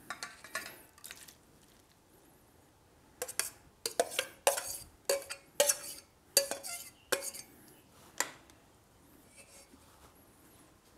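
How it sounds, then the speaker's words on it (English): Strawberries tumble into a bowl of amaretto sour marinade, giving a scatter of sharp, close clinks and knocks against the bowl in quick irregular clusters, then trailing off into quiet. "I'm going to put the strawberries into here"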